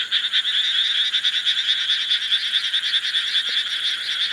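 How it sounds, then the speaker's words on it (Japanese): Frogs croak after midnight in rice paddies beside a cemetery in Aira, Japan. The dense, continuous chorus is loud and close, pulsing in rapid rhythmic waves, with no talk over it. "カエルがうるせえ。"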